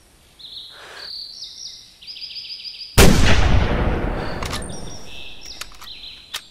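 A hunting rifle fires once in the game theHunter during a mule deer hunt: a single loud, sharp crack and a long echoing rumble, with chirping birds calling before and after the shot.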